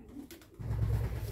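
Low, throaty cooing from a racing pigeon held close in the hand, a steady rumbling coo swelling in the second half after a brief quieter start, with no talk.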